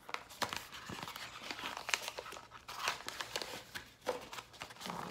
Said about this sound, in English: then you simply put it in the envelope